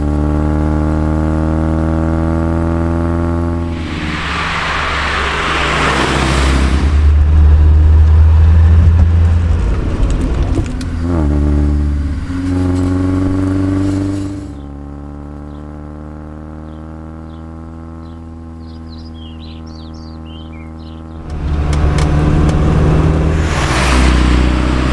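A 1973 BMW 2002's small performance engine drones close and loud while driving, pitch climbing and dropping through gear changes, with some faint chirping during a quieter stretch.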